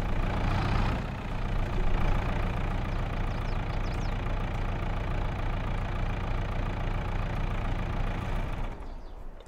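Tractor engine in Farming Simulator 22 idling and running steadily, a continuous low mechanical drone with a faint knocking texture that cuts off near the end, heard alone with no talking.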